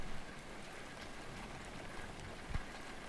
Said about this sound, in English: Especially when it's raining.